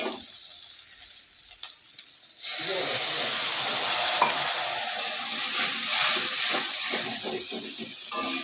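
Frying onions burst into a loud, bright hiss and sizzle when a little water hits the hot pan, after a quieter stretch of gentle frying, and the steady sizzle carries on to the end.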